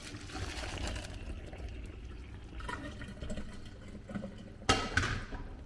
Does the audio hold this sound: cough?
no